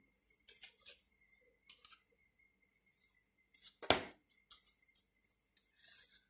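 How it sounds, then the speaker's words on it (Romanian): A deck of tarot cards is cut and shuffled by hand, with a series of soft crisp card rustles and flicks and one sharper snap midway, close and quiet with no talking. "Hai să tai cărțile."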